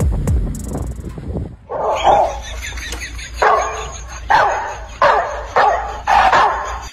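A small dog barks in a series of sharp, close, loud barks, about six of them in a fairly regular rhythm after a brief quieter opening.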